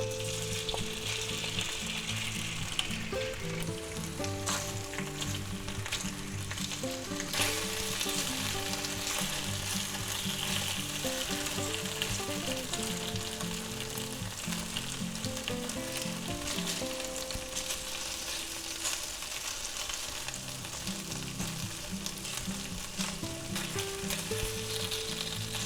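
Marinated shrimp fry in oil in a cast iron skillet with a strong, continuous crackling sizzle, close and steady throughout, with faint background music and no talking.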